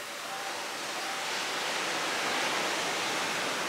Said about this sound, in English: Can't you hear the ocean, the waves?